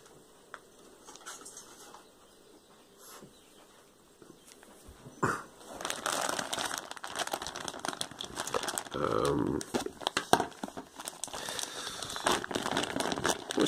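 A bag of play sand is handled with soft intermittent rustles that build into loud, dense crinkling and crackling close by, continuing busily to the end.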